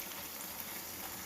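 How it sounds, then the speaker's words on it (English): Chicken ghee roast, Mangalore style with curry leaves, sizzling in ghee in a pan, a steady close frying hiss with no talking. "There is still a lot of roasting to happen,"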